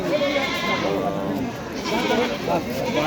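Goats bleat amid the crowd at the weekly Rustampur goat market, their cries blending into a steady din of close conversation and market chatter.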